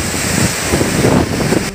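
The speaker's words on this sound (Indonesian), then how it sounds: "hujan deras dan angin kencang menerjang kawasan Sidoarjo Utara, Jawa Timur" Heavy rain and strong wind lash an outdoor culinary area in Gedangan, North Sidoarjo, East Java, a dense, steady roar of rushing air and downpour with gusty buffeting across the whole stretch, no voices.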